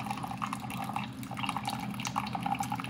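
A glass being filled with water sounds as a steady, close liquid pour with small trickling and dripping detail, continuous throughout with no talking.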